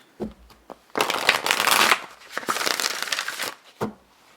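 Tarot cards being shuffled by hand, a close crisp riffle and crackle in two bursts with a few soft taps between, no talking.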